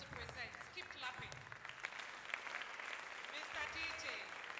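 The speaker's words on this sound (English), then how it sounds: "Please keep clapping for the contestants." Audience applause for contestants at a spoken word contest quarter final, a faint, steady patter of clapping from a crowd in a hall, continuing evenly throughout.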